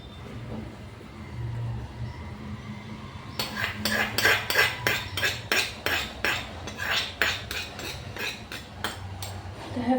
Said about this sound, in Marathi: फोडणीला व्यवस्थित मिक्स करायचं आहे वरणामध्ये